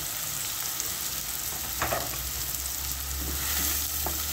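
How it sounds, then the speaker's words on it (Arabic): Onions hiss and crackle in hot oil in a casserole, a steady close sizzle with a few soft clinks of a wooden spoon stirring. "من بعد ما سخنات لي الزويته غادي ندير هذوك جوج حبات ديال البصله"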